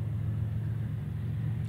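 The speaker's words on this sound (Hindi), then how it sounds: "GU40 की झगिंग साउंड, गराजदार साउंड, कमाल की साउंड है।" A GE GEU40 diesel locomotive hauls a heavy loaded coal train of over 3300 tonnes through a railway station. Its deep, steady engine rumble is loud and continuous, with no voices over it.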